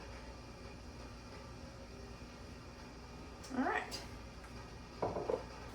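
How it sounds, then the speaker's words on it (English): A steady low rumble and hiss of a heating water-bath canner hums in the background, with a brief voice and a couple of clinks over it. "Now I bet y'all can hear our canner in the background."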